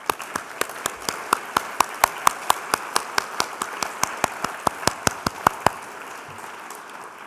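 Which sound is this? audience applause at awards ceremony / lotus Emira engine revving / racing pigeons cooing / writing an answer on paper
audience applause at awards ceremony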